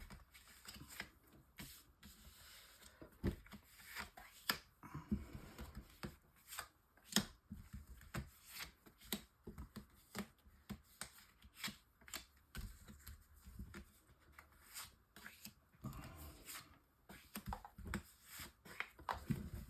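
Tarot cards from the Albano White Tarot deck are shuffled by hand, a quiet close series of irregular riffling flicks and soft taps in bursts, with no talking.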